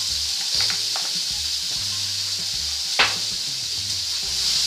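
Vegetables sizzle in a frying pan as they are stirred through a spiced mixture, a steady soft hiss with occasional scrapes and one sharper knock of the utensil, and no voices.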